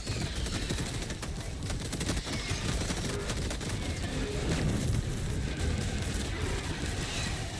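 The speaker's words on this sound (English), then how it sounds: "Let me orbital Gatling. Firing orbital barrage." Orbital Gatling barrage firing in Helldivers 2, a relentless stream of rapid gunfire and impacts with booming low rumble, loud and continuous throughout.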